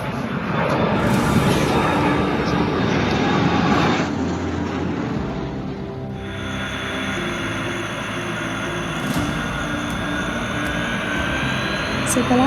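A loud aircraft engine roars and rumbles, with a high whine overhead, as a plane passes close by while landing at an air force base; voices may be faintly present under the noise.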